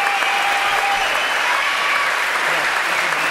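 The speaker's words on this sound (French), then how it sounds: "quelques applaudissements s'il vous plaît supplémentaires" Studio audience at a French television show breaks into sustained, dense applause, loud and even throughout, with a faint voice buried underneath.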